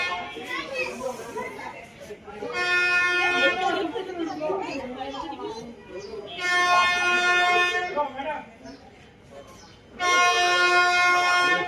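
A Nilgiri Mountain Railway train arriving at Ooty sounds its horn in three long harmonic blasts, separated by busy crowd chatter and children's voices nearby.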